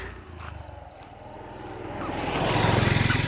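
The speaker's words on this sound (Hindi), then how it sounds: "सामने से बाइक आ रही है।" A motorbike approaches head-on along a road, its engine growing steadily louder and nearer over a few seconds, with a low rumble and rising roar.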